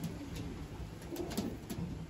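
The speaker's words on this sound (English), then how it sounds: "So this is one of the birds I'm going to be auctioning for Abby." Racing pigeons coo softly inside a loft, a few faint low murmuring calls over a quiet background.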